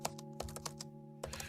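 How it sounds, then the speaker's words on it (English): Computer keyboard typing in a lo-fi ambient setting, a quick run of key clicks over a steady low tonal hum of background music, moderately quiet. "So we got keyboard typing."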